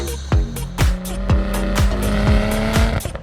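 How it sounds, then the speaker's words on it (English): A 2020 BMW M340i xDrive launching hard with launch control, engine roaring loud and close as it climbs through a rapid series of gears, with sharp shift breaks rhythmically punctuating the acceleration. "2020 BMW M340i. X-Drive with launch control. Build boost, and send."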